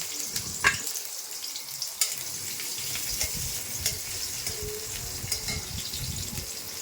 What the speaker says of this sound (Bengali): এখন এই যে পেঁয়াজ কুচিটা ভাজা দিয়েছি